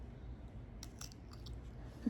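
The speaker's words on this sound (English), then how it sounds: "George is having a snack. You eating some pickles?" A child snacks on sour pickles, soft close crunching and wet chewing sounds at low level, with a few brief bites standing out near the middle and a small knock at the end.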